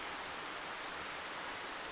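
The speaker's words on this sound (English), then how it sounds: "I really like the rainy ambiance we have going on in that one." Steady rain ambience in the video game Future Connected, a faint, even hiss of falling rain with no variation or other sounds.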